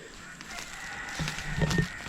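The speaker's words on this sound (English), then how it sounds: "Old rooster down there crowing." An old rooster crows from down the way on a rural property near a pond, a faint distant call rising over quiet outdoor ambience.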